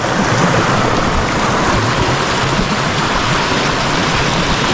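Clear, cold stream water rushing steadily at Upper Diyaluma in Sri Lanka, a loud, continuous close-up flow with no voices.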